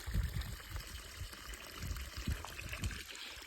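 Brine water flows in a shallow salt-farm pan in the Little Rann of Kutch, a steady low trickling and gurgling stream close by, with faint background hiss.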